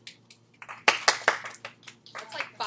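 A few students clap in a classroom, loosely and out of sync, the scattered claps building briefly in the middle and then thinning out, with voices mixed in.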